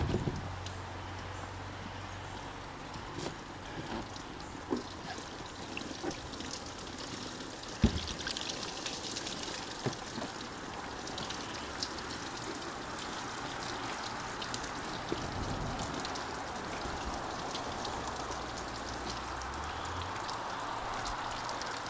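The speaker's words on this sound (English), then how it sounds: "Look at all that water coming out." Water pouring and trickling out of a window air conditioner tipped over on a table after being hosed clean, a steady splashing drain with scattered drips and knocks, no talking.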